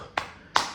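Two sharp hand claps during a yoga breathing exercise, close and crisp, about half a second apart in a quiet room.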